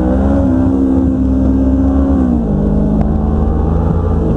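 A motorcycle engine drones loudly and steadily while the bike is ridden, with a constant low hum and a slight drop in pitch partway through, accompanied by wind rush.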